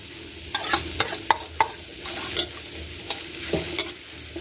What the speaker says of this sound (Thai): ตั้งกระทะลงไปครับเอา หอมแดงนะครับ ลงมาคั่วกัน